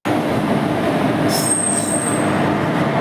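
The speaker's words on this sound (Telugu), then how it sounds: "ప్రస్తుతానికి నర్సాపేట స్టేషన్ లో ట్రైన్ అయితే వచ్చింది" Steady rumble of a train on rails arriving at Narsapet station, with a high metallic wheel squeal rising midway as it slows; no voices.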